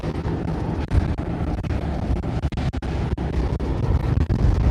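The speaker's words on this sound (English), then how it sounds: "The wind is still pretty strong." Strong wind buffets the microphone in a constant low roar with gusty dips and rumbles throughout, loud and close, outside the main gate of SpaceX Starbase in Boca Chica, Texas.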